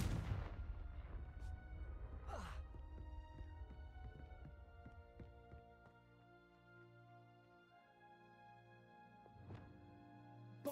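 Confringo blasting spell cast in the Hogwarts Legacy video game, giving a few sharp, quiet bursts, one early and one late, over soft sustained background music with no talking.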